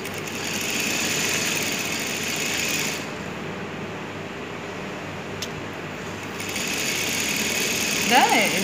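Sewing machine stitching the folded hem edge of salwar kameez fabric: a steady close mechanical whir with a short pause mid-way, under someone talking.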